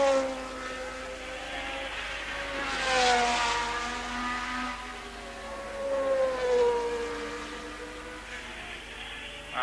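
A Tyrrell Formula 1 car from the 1979 Belgian Grand Prix screaming past, its high engine note rising as it approaches and then dropping as it passes, followed by a second fainter pass, with no talk.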